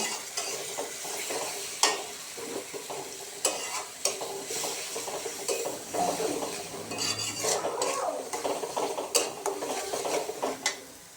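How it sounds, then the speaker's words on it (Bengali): Ground spice paste fries in hot oil while a spoon stirs and scrapes the pan, giving a steady close sizzle broken by repeated clatters and taps of metal on the pan, with no voices. "তেলের ভিতর দিয়ে দিলাম বাটা মশলা, দিয়ে আমি কিছুক্ষণ নেড়ে নেব।"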